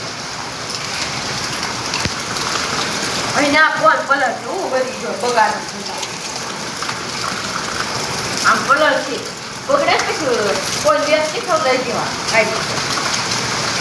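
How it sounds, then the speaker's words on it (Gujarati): Heavy rain falling in Gundala village near Vinchhiya, Rajkot district, Gujarat, a dense continuous hiss of drops drumming on surfaces, with people talking over it for most of the stretch. "એકદમ વીજળીને કડાકા સાથે વરસાદ વરસી રહ્યો છે"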